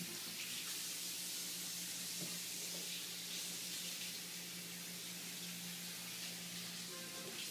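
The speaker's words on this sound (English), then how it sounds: "I'll also get the water running" Water runs steadily from a kitchen tap into a sink, a continuous soft hiss with a faint hum underneath, fairly quiet and unbroken.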